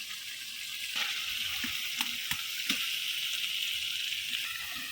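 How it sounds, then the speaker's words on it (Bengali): Washed broiler chicken pieces and potatoes going into fried-down meat masala in hot oil, a steady sizzle with a few sharp crackles and splashes, close and alone. "তো এখন দিয়ে দেবো লগে এই যে ধুয়ে রাখা মাংস আর আলুগুলা।"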